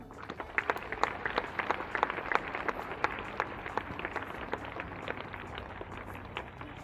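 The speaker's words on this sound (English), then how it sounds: "Please give a big round of applause." Audience applause at a National Unity Day celebration honouring Sardar Vallabhbhai Patel: a steady wash of many hands clapping, with sharper individual claps standing out, sustained at moderate level throughout.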